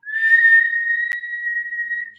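A voice mimics the loud, steady whistle of a father's El Camino, a single sustained high whistle held for about two seconds, heard alone without talk.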